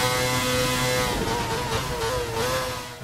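A Renault F1 car's engine in the racing game F1 2019 revs high and loud at close range. The whine climbs and dips in pitch with gear changes and holds steady throughout.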